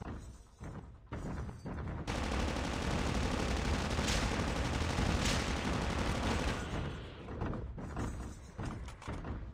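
Gunfire in Call of Duty Mobile zombies mode comes first as a few separate shots, then swells into a long, loud continuous volley for several seconds before breaking back into scattered bursts.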